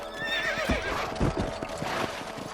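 Horses galloping in the Western video game Red Dead Redemption, rapid clip-clop hoofbeats with a horse neighing and whinnying, close and continuous.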